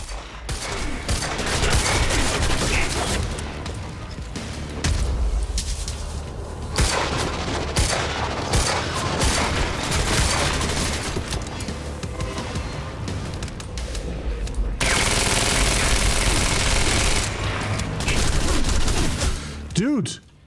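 SMG gunfire in a Remedy shooter game, dense rapid bursts of automatic fire with booms and impacts running almost continuously, close and loud, with a player talking over it.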